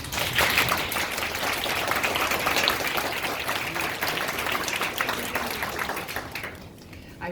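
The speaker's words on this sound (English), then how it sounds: "please join me in a warm round of applause to welcome our special guests." Warm, sustained applause from an audience welcoming special guests at a Canadian citizenship ceremony, a dense wash of clapping that holds steady and then tapers off near the end.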